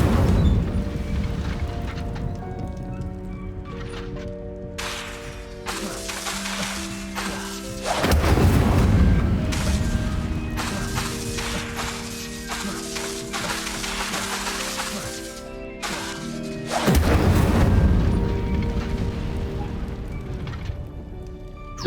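Incendio fire spell casts in Hogwarts Legacy on Switch, two heavy whooshing blasts erupting loudly over a continuous music-like ambient bed, spaced several seconds apart.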